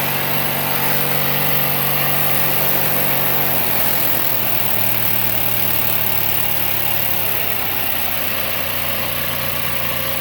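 Bolens 3014H signature edition garden tractor engine running steadily, first at a low idle and then settling into a faster, rougher hum partway through, loud and close with no talking.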